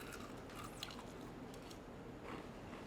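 Close, soft crunching bites and chewing of crunchy fried chicken, steady and faint over a dense background hiss, with no talking.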